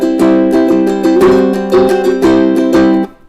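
An acoustic guitar strumming a classic rock song's chord line in a rock strum variation: quick, rhythmic down-up strokes with crisp attacks, loud and close, ending on a short cutoff.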